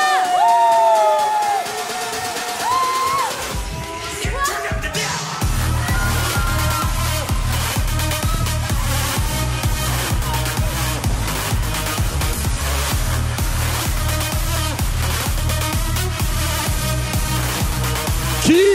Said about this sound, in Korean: 박수 한번 보내시고 음악 주세요